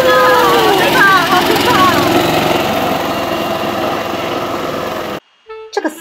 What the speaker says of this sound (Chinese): 不过在花田里飙车还真的蛮好玩的哦